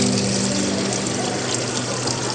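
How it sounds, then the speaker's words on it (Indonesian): Water draining from a fish pond RAS filter after the tap is opened, a steady close rushing gush that stays loud and unchanging throughout, with no talk. "Kita buka kerannya, stop kerannya. Kita tunggu air sampai dia surut."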